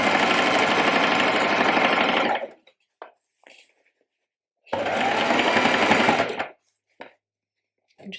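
Sewing machine stitching shirred dress fabric, two loud close runs of steady rapid whirring a couple of seconds each, separated by a pause with faint clicks and handling sounds.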